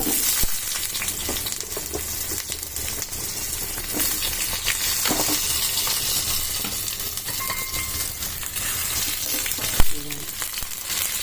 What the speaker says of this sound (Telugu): ఇప్పుడు ఈ చట్నీలో ఉల్లిగడ్డలు వేసుకోవాలండి